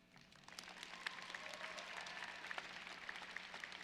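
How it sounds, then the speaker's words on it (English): Audience applause at a 2023 high school graduation ceremony after a student's performance, faint and distant with a diffuse crowd of clapping and a few sharper individual claps standing out. "could we have a huge round of applause for Nando and his performance?"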